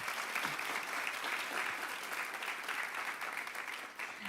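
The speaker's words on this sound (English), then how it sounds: "So please give yourselves a round of applause." An audience at a book-launch talk applauds, a steady wash of clapping held for several seconds at moderate distance, tapering slightly at the end.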